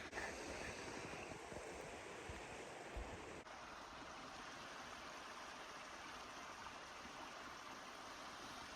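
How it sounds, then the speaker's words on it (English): A river by a roadside campsite in Olympic National Park flows steadily, a broad continuous wash of water that stays even and fairly quiet throughout, with no voices. "we're by a river."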